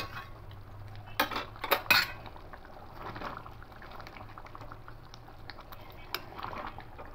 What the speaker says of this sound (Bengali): এবার খুব ভালো করে এটা ফুটিয়ে নেব